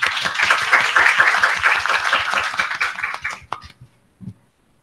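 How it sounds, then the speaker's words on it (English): An audience at a university event applauds in a steady burst of many hands clapping, close and fairly loud, tapering off over a few seconds with a final lone clap. "Please give Professor Andrew Nolan and Dr. Naruron Semchushot a big round of applause."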